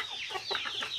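A local rooster, a black or red bird about four and a half months old and roughly 2 kg, gives a short run of close, clear clucking calls with no other sounds over them.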